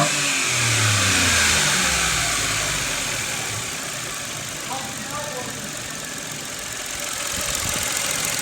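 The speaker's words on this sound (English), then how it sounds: "That's very throaty for a 3-cylinder." Modded three-cylinder engine of a cheap new car revving loud and close, a throaty rise and fall that sustains throughout with a voice faintly underneath.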